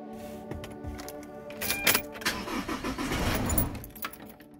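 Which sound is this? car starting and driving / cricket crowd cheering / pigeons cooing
car starting and driving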